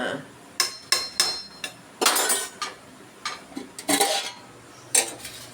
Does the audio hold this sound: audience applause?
no